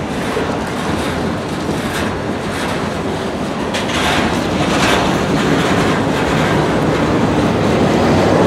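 A loud CSX freight train led by ES44DC and C40-8W locomotives rolls by up close, with a steady rumble, rhythmic clattering wheels and occasional metallic screeches, growing slightly louder.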